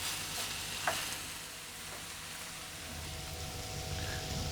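Onions and peppers for a shakshuka sizzle softly in a pan, a steady faint frying hiss with a couple of light scrapes from stirring and no voices.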